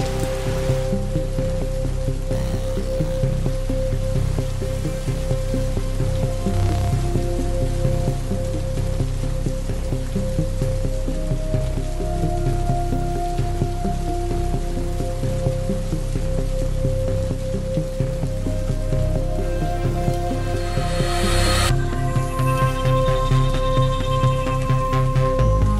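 Steady rain falls continuously, a dense, even hiss of drops on surfaces that holds at a constant level throughout, with no talking.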